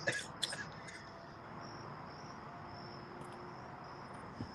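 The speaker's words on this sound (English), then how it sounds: "Crickets." Crickets chirp faintly in a steady, continuous high trill, with a couple of brief soft knocks at the start and little else around them.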